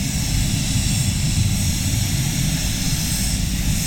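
A spray gun set to 30 psi lays down automotive base coat in a steady, loud, continuous hiss of compressed air, close by and uninterrupted.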